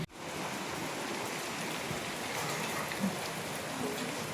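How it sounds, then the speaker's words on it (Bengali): Rain falls steadily in an even, dense patter with no pauses, moderately loud and constant throughout. "একটু আগে ঝমঝমিয়ে বৃষ্টি হচ্ছিল, এখনও বৃষ্টি হচ্ছে।"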